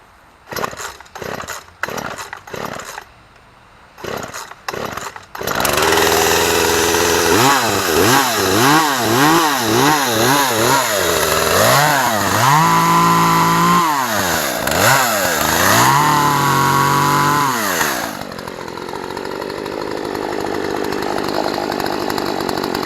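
Poulan 14-inch chainsaw being started after a no-start problem: several sharp pull-cord yanks, then the engine catches and runs loud and close, revving up and down repeatedly before settling into a steady idle.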